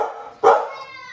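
A dog lets out a single sharp bark, loud and close, rising from a quieter background and trailing off afterward.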